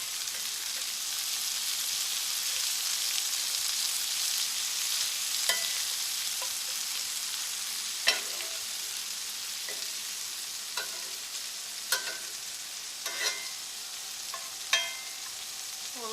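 Vegetables with homegrown purple onions and their tops sizzle steadily in a pan for a homestyle dinner, with occasional scrapes and clinks from stirring spaced through a continuous frying hiss.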